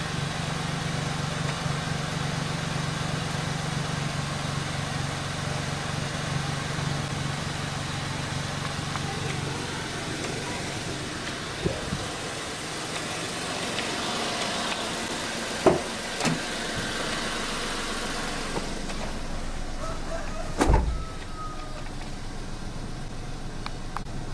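A steady, low engine idle of a Datsun Go+ car warming up in the morning hums throughout, with a few brief clunks and knocks partway through.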